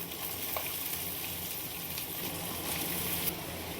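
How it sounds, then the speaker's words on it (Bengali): Chopped potato and onion fry in oil rendered from fish, a dense, steady sizzle with faint stirring, close and fairly loud throughout, with no talking. "এবারে আমরা কেটে রাখা আলু এবং পেঁয়াজটা দিয়ে দিচ্ছি।"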